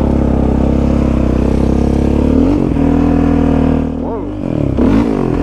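A Yamaha Raptor 700 ATV fitted with studded ice tires rides across a frozen lake, its engine droning loud and close at a steady pitch, dipping and rising through throttle changes, while a rider briefly exclaims.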